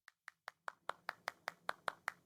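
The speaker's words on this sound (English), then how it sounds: "He's clapping so hard." A character clapping hands in the Animal Crossing video game, about a dozen crisp, evenly spaced claps in a quick steady rhythm, growing slightly louder after the first few.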